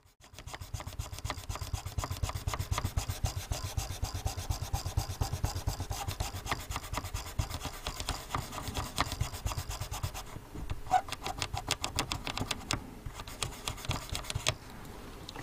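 Steady, close rasping as a fiberglass brush scrubs grimy parts of a Tandberg TP41, a dense continuous scratching that runs for about fifteen seconds with a short lighter patch near the end.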